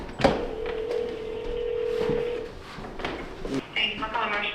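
A telephone being dialed to call a building products store: a short button tone, then a steady sustained tone lasting about two seconds, with faint clicks and background voices following.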